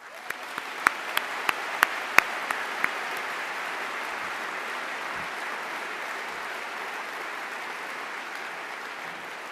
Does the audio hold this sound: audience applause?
yes